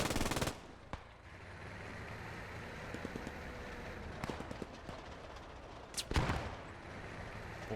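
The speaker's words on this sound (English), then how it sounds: "Bren guns firing in the distance as the MG42 is also return fire" Bren guns and an MG42 machine gun exchange fire in the World War II shooter Post Scriptum, heard as distant crackling bursts and a few sharper nearby shots over a low, steady rumble.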